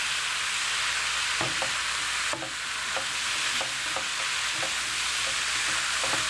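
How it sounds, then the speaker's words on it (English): Chicken, bacon and leek fry in a pan with a steady, bright sizzle. A utensil scrapes and stirs through them in short, repeated strokes. "Let's give that a fry for 5 more minutes"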